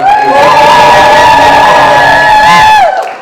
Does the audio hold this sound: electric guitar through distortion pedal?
no